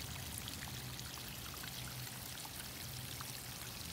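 Water pours steadily over eroding ground, washing soil out of deep gullies down to the bedrock, a continuous trickling rush heard close and alone.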